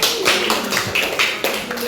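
A class of students clapping hands in a classroom, a short burst of crisp, fairly close claps in a loose, uneven rhythm lasting about two seconds.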